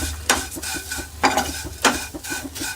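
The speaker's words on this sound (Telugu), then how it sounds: "ఇవన్నీ మంచిగా ఇప్పుడు వీటిని వేయించుకుందాము" Kunafa ingredients fry in ghee while a spoon scrapes and stirs the pan in three or four distinct strokes over a continuous close sizzle, with no speech.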